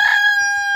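A Leningrad golden rooster crows, one loud, clear, tonal call heard close up and cut short.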